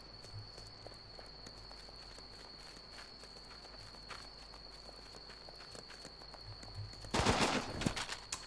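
Gunfire in the war game Running with Rifles: a faint, steady bed of distant battle noise with scattered small cracks, then a louder, dense burst of shots near the end.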